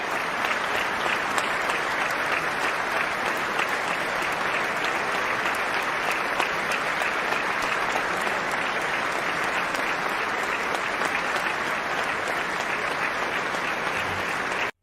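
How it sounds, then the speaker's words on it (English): Sustained audience applause fills a large chamber at the State of the Union, dense, even clapping that stays loud and steady for the whole stretch before cutting off abruptly at the end. "Most of them, the respectful clap."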